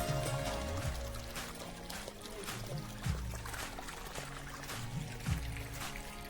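Water gushing from a pump motor's pipe at a small farm plot, a steady rushing flow with splashy surges, fairly close and continuous, while someone talks now and then over it.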